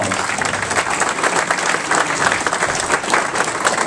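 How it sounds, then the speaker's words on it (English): Sustained applause from an audience at a state party chair candidate forum, dense steady clapping throughout with no pauses and a faint murmur of the crowd beneath. "Let's give these candidates a round of applause."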